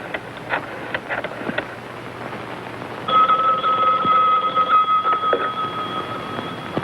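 A telephone is used to place a call: a few faint clicks, then a steady electronic ringing tone with harmonics begins midway and continues to the end, with no one speaking.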